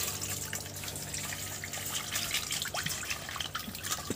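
Water pours and trickles over chhana being washed for rasmalai, a close, steady splashing flow with small drips and faint clinks, moderately quiet.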